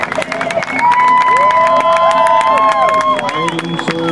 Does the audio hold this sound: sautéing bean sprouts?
no